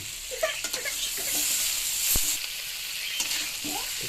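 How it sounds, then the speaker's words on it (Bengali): Tomatoes sizzle in a pan for hotel-style tabla egg curry with potatoes while being stirred. Spatula scrapes and clinks break over a constant frying hiss, close and moderately loud. "একটু নাড়াচাড়া দিয়ে দিলাম কষানো হয়ে গেল ভালো করে কষিয়ে দিচ্ছি"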